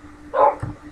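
A single short dog bark from Minecraft, one bright yip followed by a lower thud, fairly close and alone over a faint steady hum.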